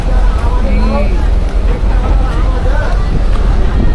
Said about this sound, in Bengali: এখান থেকে বোটে উঠলাম।